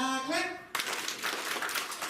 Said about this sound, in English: can I get a star clap? And you do 5 claps up in the air